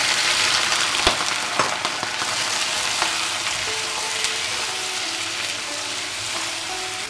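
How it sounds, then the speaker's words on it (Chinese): Blanched pork belly hits amber caramelized rock sugar in a pan over medium heat for old-style red-braised pork, giving a loud, steady sizzle and a few clinks of stirring. "现在我们把这个焯好水的五花肉倒进去。"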